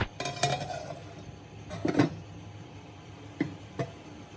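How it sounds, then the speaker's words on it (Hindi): A metal lid clanks onto a cooking pot of water heating for rice, several sharp clinks and taps spaced out over a few seconds, close by in a quiet room. "पतीली को हम वापस ढक देते हैं ताकि पानी जल्दी बॉयल हो जाए।"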